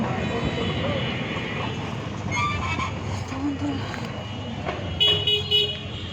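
Traffic sits jammed under heavy cloud before rain, with car horns honking intermittently over a low engine rumble and occasional voices nearby.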